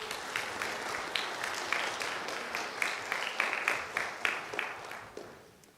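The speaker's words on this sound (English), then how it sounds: "Let's give a big round of applause for our spellers." Audience at a district English spelling bee applauds its spellers after a practice round, a sustained burst of clapping from many hands that swells, holds steady, then tapers off near the end.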